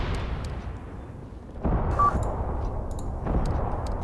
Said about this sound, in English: my artillery over here is starting to land